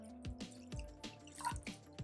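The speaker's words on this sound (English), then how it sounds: "First goes our water." Water from a pitcher or tap poured into a cooking pot on a home stovetop, a close, dripping, splashing stream in short bursts with no talking.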